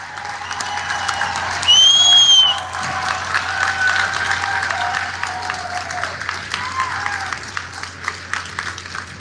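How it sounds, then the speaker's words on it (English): A crowd at an outdoor 9/11 memorial speech in New York gives sustained applause, a dense wash of clapping that swells briefly with cheering and a whistle, then carries on steadily. "They deserve our applause."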